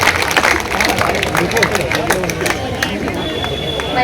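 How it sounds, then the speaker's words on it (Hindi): Audience applause and crowd noise welcome a poet on stage at an all-India poetry gathering in Mohammadi, Lakhimpur Kheri, as a steady, dense wash of clapping over a murmuring crowd. "एक बार आगे से पीछे तक सभी लोग जोरदार तालियां बजा करके स्वागत करें"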